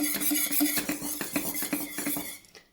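A pot of rava appalam mixture is stirred on a stove that has been switched off. A spoon scrapes and clinks against the metal in a quick, steady rhythm, close up and with no talking.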